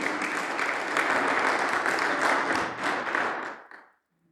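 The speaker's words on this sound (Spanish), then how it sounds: "Dale fuerte las palmas a nuestro Señor Jesucristo." A church congregation claps hands loudly and steadily for about three and a half seconds, the clapping then thinning out and stopping abruptly into silence.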